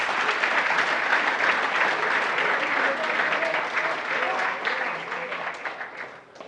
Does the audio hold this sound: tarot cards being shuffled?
no